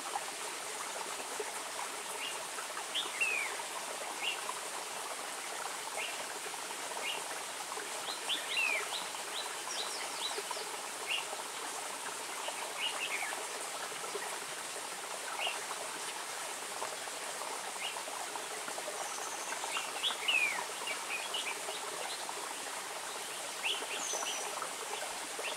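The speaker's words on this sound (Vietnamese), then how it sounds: "Suối to, chả nghe thấy tiếng chim." A loud rushing stream fills the outdoor scene with steady broadband noise, while faint birds chirp now and then, nearly buried beneath the water.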